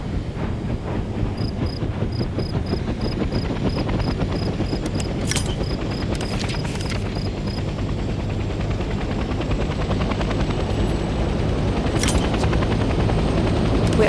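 Helicopter engine and rotor in the Vietnam-era war game Hell Let Loose Vietnam, a loud, steady, close droning roar throughout, with a few brief sharp bursts on top partway through.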